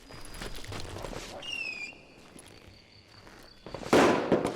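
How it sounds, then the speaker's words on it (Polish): Scattered pops and crackles of fireworks in Call of Juarez: Gunslinger, with a brief whistling streak midway and a louder burst of crackling near the end. "W ogóle skąd oni wzięli fajerwerki?"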